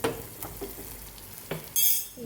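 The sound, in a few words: ingredients frying in oil with salt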